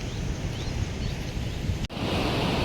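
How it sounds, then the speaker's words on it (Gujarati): River water flows through a canal fed from a check dam during the monsoon, a steady broadband rush heard outdoors with some wind buffeting and a brief dropout near the end. "આ જો નદીનું જ પાણી આવે છે"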